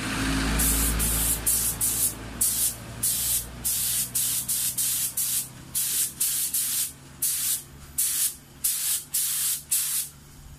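A spray gun repeatedly hisses in short bursts as a Kawasaki K1 motorcycle cover set is repainted, the bursts evenly spaced and close, with a steady low hum from the compressor underneath.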